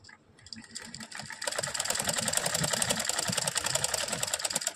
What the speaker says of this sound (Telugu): సో ఇది నేను ఇక్కడ స్టిచ్ చేస్తున్నాను